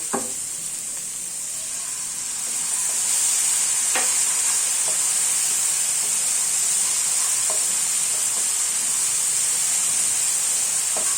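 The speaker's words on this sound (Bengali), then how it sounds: "আমি এখন এটাতে আরেকটু পানি দিব।" Water hits frying spice paste in a pan for a cauliflower and tangra fish curry, setting off a loud, steady sizzle and hiss that swells after a few seconds, with occasional light stirring clicks and no talk.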